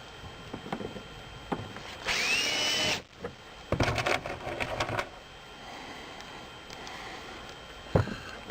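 A power drill drives screws into a metal shed roof during a hole repair, with a steady mid-clip whine of a second or so, then shorter revving bursts and clicks, close and fairly loud against quiet surroundings.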